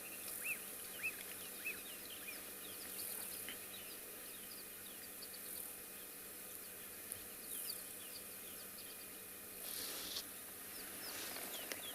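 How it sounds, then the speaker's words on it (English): Birds call and chirp all around an elephant in the bush at sunrise on a Tswalu safari, many small scattered chirps and tweets at moderate distance over a steady insect buzz, with no talking. "And there's lots of birds around him."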